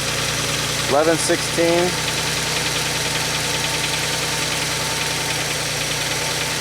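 A car starting from a brief crank, then idling steadily at moderate level, with a person talking briefly over the start.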